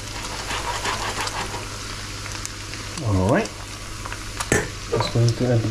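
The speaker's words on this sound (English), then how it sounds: "I'm going to cook off the parsley and the garlic" Parsley and garlic frying in a pan give a steady sizzle throughout, with brief voiced sounds and a few sharp clinks near the end.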